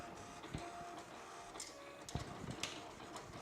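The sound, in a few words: Silhouette Cameo cutting machine cutting adhesive vinyl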